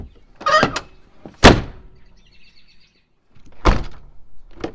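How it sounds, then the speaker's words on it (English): Several door slams on a Land Rover Defender with rusty, loose hinges, sharp heavy thuds with metallic rattle, separated by quiet pauses; one loud slam early, another later, and a lighter closing knock at the end. "As you can see, I can slam it, but until I really slam it, it doesn't actually latch."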